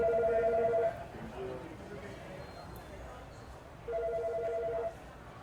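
Telephone ringing at a cruise ship front desk: two bursts of an electronic ring about a second each, separated by a pause, moderately loud over quiet room murmur.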